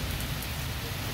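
Heavy monsoon rain pours steadily in a village, a dense continuous hiss of drops on surfaces, loud and unbroken.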